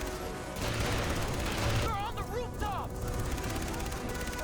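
Gunfire and incoming rockets in the video game Far Cry 3, a dense continuous barrage with whooshing, whistling projectiles in the middle, loud throughout.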